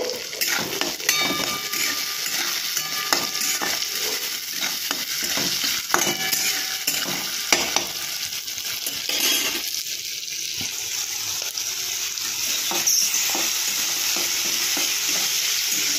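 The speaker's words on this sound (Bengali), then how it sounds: "পেঁয়াজটা মটরশুঁটিটা একটু ভাজা দরকার" Onion and peas frying in a pan, a steady sizzle with frequent stirring scrapes and clinks of a spatula against metal, no talking.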